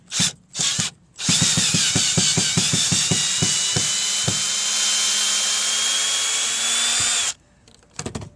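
Power drill backing number 2 sheetrock screws out of old deck boards: a long, steady whine with rhythmic thumps of the bit catching, near and loud, set between short bursts at the start and end.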